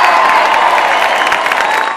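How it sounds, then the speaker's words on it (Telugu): A studio audience on a TV game show claps together, loud continuous applause filling the short moment. "అబ్బాయి క్లాప్స్ కొట్టండి అందరూ"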